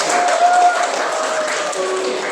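A classroom of students clapping together, a continuous dense patter of hands for a couple of seconds with faint voices and tonal sounds mixed in.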